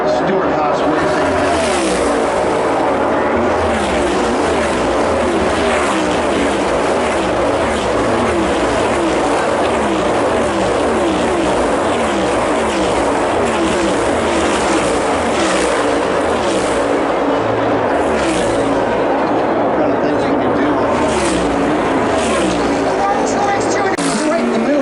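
NASCAR stock cars roar through turn 4 in the 2022 Wise Power 400, a dense, continuous wash of engine noise with overlapping passes and revving throughout.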